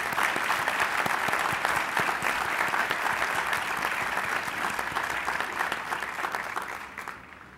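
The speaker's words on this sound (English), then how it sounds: "A round of applause." A large graduation ceremony audience applauds steadily for several seconds, a dense wash of clapping that fades slightly toward the end.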